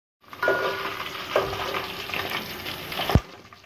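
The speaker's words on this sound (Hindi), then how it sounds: "यहाँ पे हमारी प्याज ब्राउन हो रही है।" Onions frying and browning in a pot for a chana dal gosht dish, giving a steady close sizzle with a few stirring scrapes and a sharp clank near the end, with no talk.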